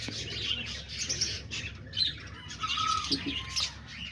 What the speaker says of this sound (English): this is all the peach face lovebirds cage right here